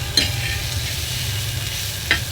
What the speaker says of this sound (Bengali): ডিম ভেজে রেখেছিলাম যে এখানে দিয়ে দিলাম, পুরোটা দিয়ে মিলিয়ে নিলাম ভালো করে।